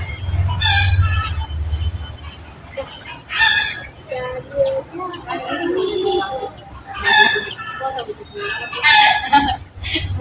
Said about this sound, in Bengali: মুরগিটা ঘরে ঢুকতে দিন।